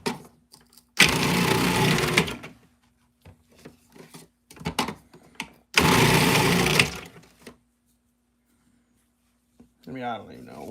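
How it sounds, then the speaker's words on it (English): A kitchen appliance grinding potatoes roars in two loud bursts of about a second each, separated by quiet stretches with brief clatter and some talk. "We're grinding up some potatoes."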